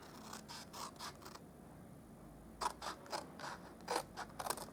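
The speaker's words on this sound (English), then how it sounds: "we're going to cut up to that other mark there, up to that score line there" Paper trimmer or scissors cutting card stock up to a score line while making a Christmas reindeer punch art gift box, heard as a run of small close mechanical clicks and snips in bursts with a pause between.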